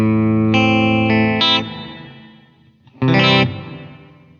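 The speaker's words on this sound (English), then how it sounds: "The next one is a plateau reverb where the tweak control gives us pitch modes." Guitar chords run through a Line 6 DL4 MkII pedal on a plateau reverb with pitch mode ring out in two strummed bursts, each leaving a shimmering, pitch-shifted reverb tail that fades away.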